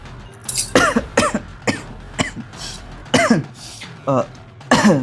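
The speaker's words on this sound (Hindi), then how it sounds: "मुझे लगता है कि थोड़ा सा खांसी आ रही है" Several sharp, close coughs in a row, a few with throat clearing, loud and bursty with brief pauses between them.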